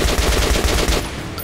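Loud, rapid machine-gun fire from the Metro Last Light video game rattles out in a tight burst of close shots, then cuts off abruptly.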